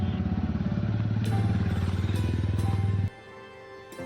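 A motorbike engine starts and idles with a steady, rapid throbbing putter for about three seconds before cutting off, followed by faint background clatter, close and fairly loud.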